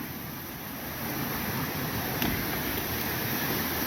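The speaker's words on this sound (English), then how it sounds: "This is Trout Creek." Steady rushing flow of Trout Creek along the Appalachian Trail in Virginia, a broad continuous wash of water heard close by with no voices over it.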